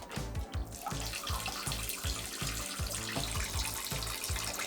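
Water runs and splashes steadily into a toilet bowl, with a rhythmic churning gurgle underneath, continuous and fairly close throughout.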